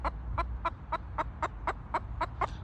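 A chicken clucks in a steady series of about eleven short, evenly spaced clucks, close by, over a low rumbling background.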